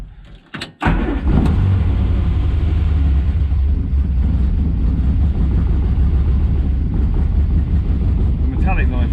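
A Morris Minor engine with a freshly cleaned SU carburettor cranks and catches after a brief stutter, then runs steadily with a low rumbling idle close by.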